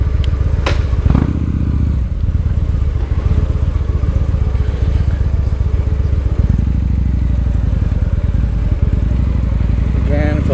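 A motorcycle ridden with a rattly noise, a loud steady engine drone with constant buzzy rattling and occasional thumps, close up and continuous throughout, with someone talking over it.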